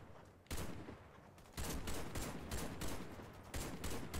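Gunfire in the first-person shooter Warface on Nintendo Switch: loud bursts of automatic shots in repeated volleys, some sharp single cracks between them, close and dominant throughout.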